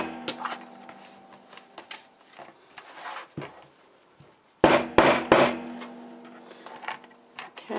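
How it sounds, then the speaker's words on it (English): A small craft hammer raps on a paper storage box: scattered light taps, then a pause, then a cluster of three sharp, louder bangs close by, followed by softer knocks and handling noises. "But now I've got this little craft hammer,"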